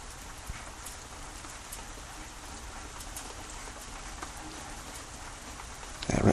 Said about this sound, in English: That sound you hear is the rain.